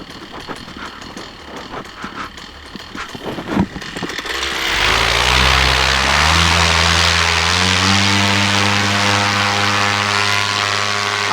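Paramotor propeller engine starting up and revving for takeoff, a loud close droning roar with rising pitch that builds after a few seconds of quieter handling noises and holds steady to the end.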